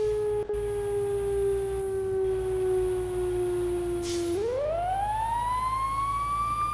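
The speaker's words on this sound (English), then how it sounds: "The manual siren? That's fucking dope." A manual emergency vehicle siren in the video game EmergeNYC, a steady tone that slowly sinks in pitch, then sweeps upward again, loud and continuous.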